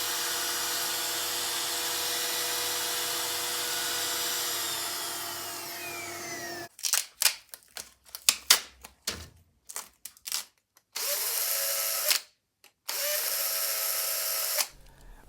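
A router with a template guide trims the edge of a Squier Stratocaster pickguard, starting with a long steady whine and then breaking into short bursts and chattering cuts separated by silences.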